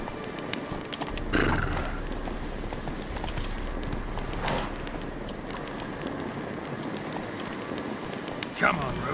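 Roach, the horse in The Witcher 3 game, gallops with steady clip-clop hoofbeats under a constant rain-like hiss, with a few louder thuds along the way.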